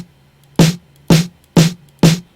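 A snare drum sample struck alone four times at an even, moderate pace, each hit a sharp bright crack with a short noisy tail, loud and close with near silence between.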